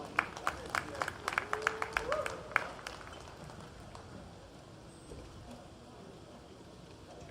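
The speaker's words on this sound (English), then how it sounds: "Let's give both of these gentlemen a big round of applause." Scattered audience clapping at a masters world championship track cycling event in a velodrome, a few sharp claps at first fading into a steady crowd murmur and hall ambience.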